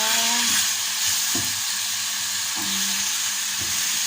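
Beef steak frying in a pan and being stirred, with a steady sizzle and hiss throughout and a few soft scraping strokes of the utensil at intervals.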